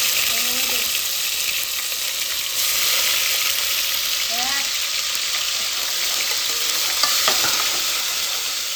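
Tomato and onion paste fries in a hot pan after garlic, a steady loud sizzle and hiss running throughout with occasional faint stirring clinks.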